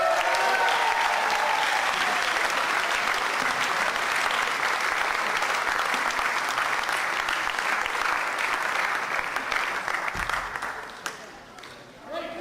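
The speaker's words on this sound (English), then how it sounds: "Give him a round of applause." Sustained audience applause fills a British wrestling hall for a lifetime achievement award, loud and steady clapping from a large crowd that tapers off near the end.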